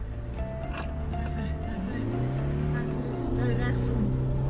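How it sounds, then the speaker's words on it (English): A Toyota 4WD slides through a slalom course, its engine a steady droning hum with pitch rising and falling as it's thrown around, heard at moderate distance under ongoing commentary. "Now he really gets going, sliding the Toyota."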